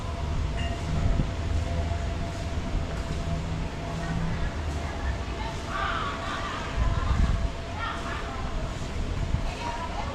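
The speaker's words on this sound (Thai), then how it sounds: "เหมือนไกล ๆจะเห็นเป็นรถไฟกำลัง" A train rumbles in the distance, approaching Hat Yai Junction station in Thailand beneath a steady station murmur, with people talking nearby throughout.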